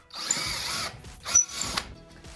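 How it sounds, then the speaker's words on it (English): A power drill boring holes into a metal pole, whirring steadily at close range in two sustained bursts with a short dip between, no voices. "Now we have to drill holes to attach the clip for our tube."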